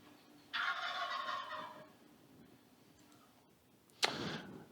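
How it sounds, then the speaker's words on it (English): A wild turkey gobbles once, a rapid rattling call at moderate distance, followed a little later by a sharp, louder sound, all over quiet outdoor background noise. "If you heard that sound strikes passion and excitement in the hearts of bird lovers and hunters everywhere. That is the wild turkey."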